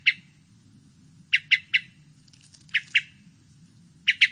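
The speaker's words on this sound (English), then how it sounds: "The first sound is a hermit thrush call." Hermit thrush calls ring out as sharp, high chips in small clusters of two or three, spaced by pauses over a low background hum, fairly near and clear.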